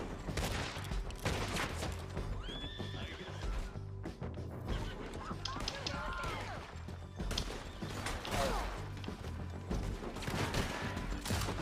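Gunfire crackles in a western shootout in the video game Red Dead Redemption 2. Shots come in repeated bursts mixed with horse whinnies and clattering hooves, loud and busy with almost no speech.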